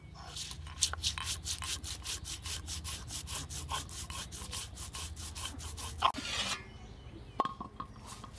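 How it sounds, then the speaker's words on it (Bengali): Mustard seeds, green chillies and a little salt ground together into paste on a grinding stone for steamed hilsa, a steady rhythmic scraping of stone on stone, close and loud, stopping near the end with a few clatters. "এখানে নিয়ে নেব এখন সরিষা, কাঁচামরিচ আর সামান্য একটু লবণ। এখন একসাথে বেটে নেব।"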